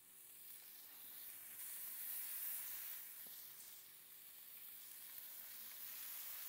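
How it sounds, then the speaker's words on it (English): Burger meat balls searing on a hot Pit Boss griddle, a steady, fairly quiet hiss of sizzling fat that swells slightly and holds on without interruption. "it's already starting to sear that meat"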